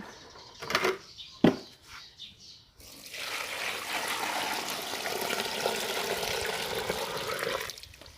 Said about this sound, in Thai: เทน้ำลงไปเลยค่ะ